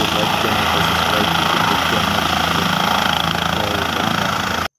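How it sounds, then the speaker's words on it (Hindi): A helicopter lifts off from a village homestead for a wedding farewell, its rotor and turbine roaring loud and steady from close by, with dense broadband wash throughout. "अब हेलीकॉप्टर बवादिया की डाणी से गांव अड़वड़ के लिए प्रस्थान करेगा।"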